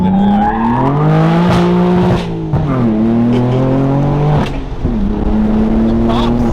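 A straight-piped BMW M4 exhaust blares loud and close, revving up and bouncing off the limiter with sharp popping crackles, the pitch rising and dropping in repeated pulls.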